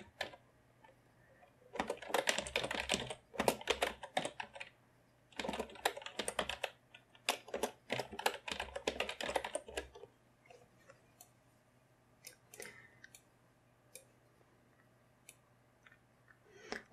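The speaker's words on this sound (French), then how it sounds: "On va taper le titre de notre" Close key clicks ring out from a computer keyboard as a song title is typed into a blank score in music notation software: dense rapid bursts in several runs separated by short pauses, then sparse single taps, with no talk.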